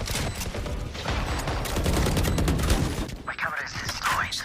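Gunfire in a competitive Valorant esports match, with dense rapid spraying of shots filling the mix while a caster talks over the action.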